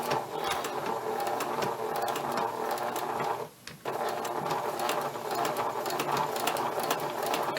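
A sewing machine back stitching a shirt collar, a steady fast mechanical whir with one brief pause midway before it resumes and runs on evenly.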